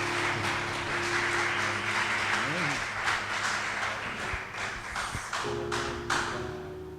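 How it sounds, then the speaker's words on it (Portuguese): A church congregation applauds a bishop with broad, steady clapping while sustained organ or keyboard chords play underneath, and a few thumps and taps stand out near the end. "Uma salva de palmas para o homem de Deus."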